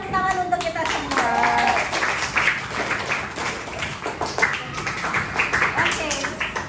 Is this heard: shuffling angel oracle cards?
no